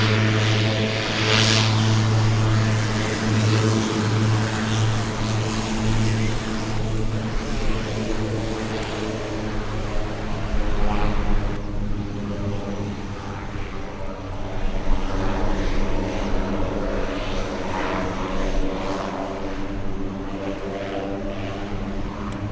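A propeller-driven fixed-wing airplane passes over a plane spotting location, its engine drone holding steady and loud for the whole stretch with a rising and falling rumble as it flies by.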